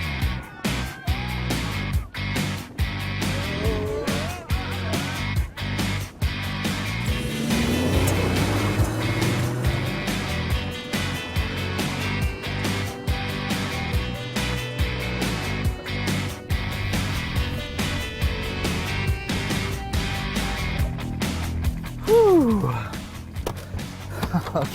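A car driven fast by a former rally driver across the desert terrain near Tozeur, Tunisia, its engine droning steadily with repeated sharp knocks and jolts from the rough ground, fairly close throughout.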